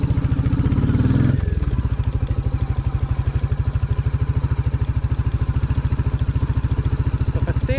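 A Royal Enfield Classic 350 rides offroad in second gear at a slow pace, its single-cylinder engine thumping in a loud, even, close chug after a brief revving surge at the start.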